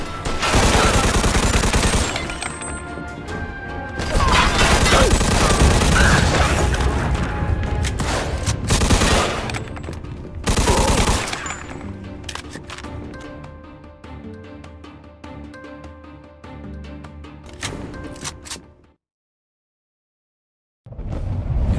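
A shootout in the video game Mafia 2 produces loud volleys of gunfire and booming impacts, heavy at first and then thinning to scattered shots before a brief silence.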